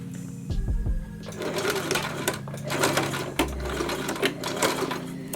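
A sewing machine runs steadily and close up while stitching elastic into a skirt. A low motor whir sits under a fast mechanical rattle, starting and pausing once in the middle.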